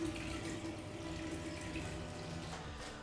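Tap water runs steadily into a newly installed, tiled shower base during a water test, a continuous close splashing rush that holds even and unbroken without any talk.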